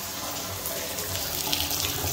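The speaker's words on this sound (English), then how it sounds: "Here's the water running." Tap water runs steadily from a faucet in a house's master bedroom area, a continuous close rushing and splashing into a sink with no pauses throughout.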